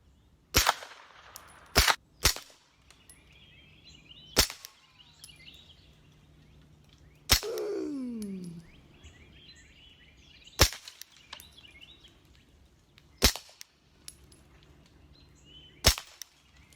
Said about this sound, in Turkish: Önce iki tane normal mermi geliyor susturucuyla. Ondan sonra da subsonik mermiler geliyor.